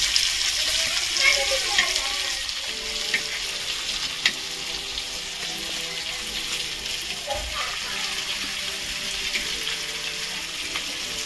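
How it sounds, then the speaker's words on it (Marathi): Mushi dogfish shark pieces frying in a pan on a wood-fired clay stove, a loud, steady hissing sizzle that fills the whole stretch, close and continuous with faint background murmurs. "5-10 मिनटात आपली बघा मुशी फ्राय एकदम होऊन जाणार आहे मस्तपैकी"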